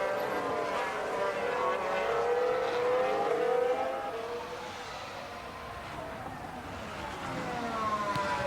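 Formula 1 race cars on track, a continuous high engine whine with pitch sweeps as cars pass, distant and steady over the whole stretch, no voices.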